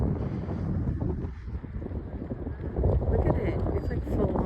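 Strong wind gusting outdoors on a cold day under a cloudy sky, a steady loud rumbling buffet against the microphone that swells and dips throughout without letup.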